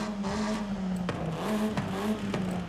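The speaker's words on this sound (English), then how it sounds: "the sports exhaust sounds better." A car fitted with a sports exhaust in Forza Horizon 5 holds a steady engine drone, broken by a few sharp revving bursts, moderately loud with no talking.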